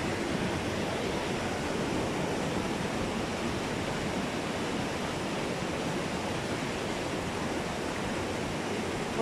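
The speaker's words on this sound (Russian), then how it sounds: "Вот там вода бежит." Water rushes steadily down a mountainside in Turkey, a loud, unbroken roar like a waterfall or stream that fills the whole scene without any talking.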